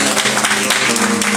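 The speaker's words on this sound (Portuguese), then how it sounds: "Você pode aplaudir o Senhor Jesus?" A church congregation applauds during a prayer service, a steady dense wash of clapping filling the room with no pause, a low sustained tone humming beneath it.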